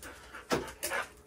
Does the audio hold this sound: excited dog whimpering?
yes